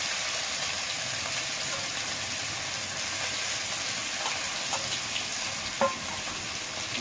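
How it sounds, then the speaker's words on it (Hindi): Chopped onion frying in a pan, a steady close hiss of sizzling oil that stays constant throughout, with a few faint stirring clicks and one sharper knock near the end. "अब इसमें डालेंगे कटा हुआ प्याज।"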